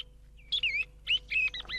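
Thrushes sing and call near pine trees, where caged decoy birds are used: a few clear, high chirps and warbled phrases come in short bursts, close and distinct over a quiet background.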